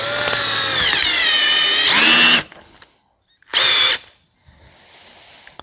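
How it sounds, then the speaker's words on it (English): A close, loud electric drill with a 1/16 inch bit whines for about two seconds while drilling a truck fuel door hinge, stops, then gives another brief burst before fading into quiet rustling. "I'm going to take my 1/16 inch drill bit."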